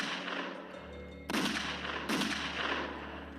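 Three gunshots fired from behind at a political assassination; two sharp, loud broadband bursts stand out over a steady background rumble, with no talk.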